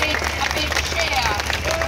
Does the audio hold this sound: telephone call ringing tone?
no